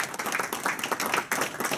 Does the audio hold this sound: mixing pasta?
no